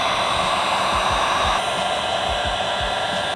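Heat gun blowing steadily as it warms adhesive tape on a paint-matched wing lip extension for a Mazdaspeed 3, a loud, continuous close-up whoosh with a slight shift in tone partway through.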